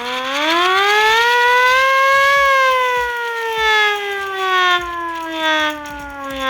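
A hand-cranked, man-powered siren wails very loudly, around 110 decibels, its pitch rising then slowly sliding down as the cranking speed changes, close by with a faint rattle underneath.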